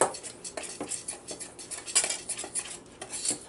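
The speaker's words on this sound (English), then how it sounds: "And just kind of knife that in a little bit, cut it in as they say." A knife works butter into a sourdough mixture with repeated light scraping and clinking against a bowl, close up, in an irregular rhythm with no talking.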